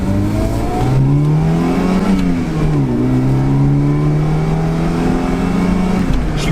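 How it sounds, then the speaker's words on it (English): A car engine revs steadily, its pitch rising and dipping through several throttle blips, close and loud with no talking. "She revs nicely."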